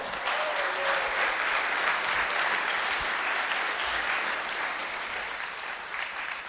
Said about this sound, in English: You need to give yourselves a huge round of applause for surviving an entire Startup Weekend